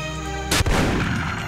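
A single loud, booming gunshot from The Punisher video game rings out close and sharp, followed by a rumbling tail that slowly decays.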